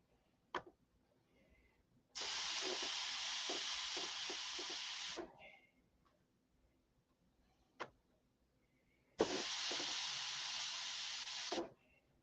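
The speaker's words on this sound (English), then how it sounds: "We'll try to steam out." Steam hisses from a steamer aimed at a dent on a model airplane, in two long steady bursts of several seconds each. Clicks and knocks from handling come before and between the bursts, and there is no talking.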